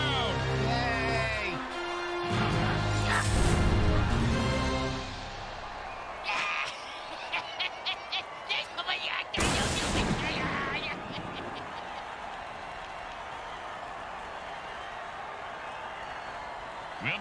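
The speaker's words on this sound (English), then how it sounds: "Listen to this crowd." A stadium crowd roars after a touchdown in a football league game, loud and sustained, with sharp bursts and a sudden swell midway before settling into a steady background wash.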